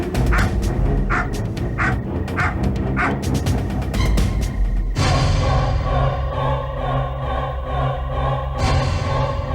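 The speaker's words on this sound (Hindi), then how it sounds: "ये टिम्मी क्यों भौंक रहा है?" Timmy the dog yips and barks in quick bursts through the first half, then gives way to a steady, dense background of music or ambience, with no dog clearly standing out afterward.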